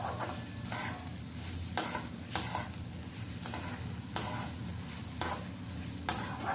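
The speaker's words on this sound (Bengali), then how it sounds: "এই মশলাটাকেও খুব ভালো করে কিছুক্ষণ নাড়াচাড়া করে কষিয়ে নিতে হবে" Spice paste with coriander stems stirred and fried in a pan for a Bankura-style cabbage curry, a steady sizzle under repeated scraping strokes of a spatula, close and moderately loud.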